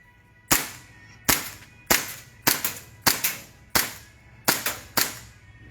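A Hi-Capa 6.0 airsoft pistol fires about nine sharp, loud shots at a range in Dasmariñas, Cavite, spaced unevenly, some in quick pairs, with no talk over them.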